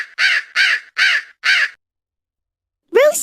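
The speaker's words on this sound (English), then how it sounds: "hooded crow" A hooded crow caws four times in an even rhythm, loud and close, then after a short silence gives one more rising call.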